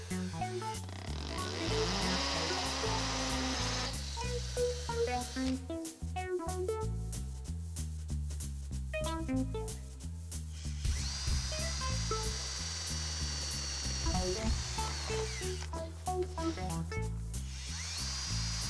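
A corded power drill with a hammer-action setting runs in loud bursts, whining and rattling as it bores, with steady music playing underneath throughout.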